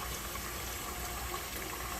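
Tap water gushes steadily into a kitchen sink in a constant, full, close rush with no talking.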